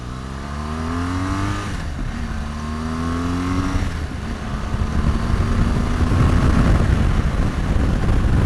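A 2018 BMW R1200GS motorcycle with a boxer engine accelerates through the gears, its rising engine note repeatedly climbing and dropping at each shift, with steady wind rush on the ride.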